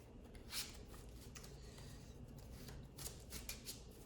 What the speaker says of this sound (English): if I don't show you guys me shuffling the decks